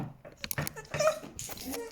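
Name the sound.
dog whimpering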